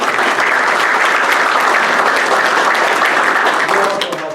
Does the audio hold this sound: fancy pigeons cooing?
no